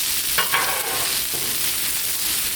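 Potatoes being lightly stirred on a Blackstone griddle outdoors in the rain, a soft scrape or two over a steady broadband sizzle and hiss, close and fairly quiet, with no voices.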